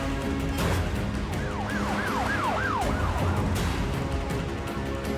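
An ambulance siren wails in a repeating rising-and-falling pattern over steady road and traffic noise, moderately near and clear, with no talking.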